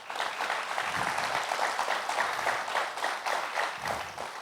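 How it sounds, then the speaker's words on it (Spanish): Congregation applauding in a church during a sermon, a dense, steady wash of many hands clapping at close range with no speech over it. "Dale un fuerte aplauso a Cristo."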